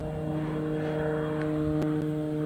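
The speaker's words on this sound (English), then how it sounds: "There's just an aeroplane that's about to land. You might be able to hear it." An aeroplane coming in to land gives a steady, droning engine hum that holds evenly and sounds moderately distant, with no voices over it.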